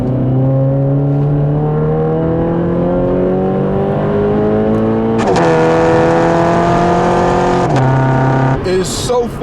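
A 2017 Toyota 86 860 Edition with an automatic gearbox takes a corner, its engine droning and climbing steadily in pitch up close before a gear change, then rising again at high volume.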